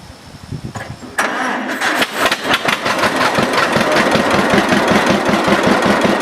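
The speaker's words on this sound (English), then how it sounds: "Getting bigger with 6-cylinder engines. Again, the engine in this one is what? 6-cylinder." A six-cylinder, 60-horsepower tractor engine cranks briefly, then catches and runs loud and close with a steady rapid chug, no voices heard.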